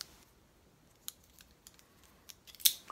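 A cigar cutter snips the cap of a Cao Brazilian cigar: a faint, quiet room with a few small ticks, then one short, crisp snip near the end.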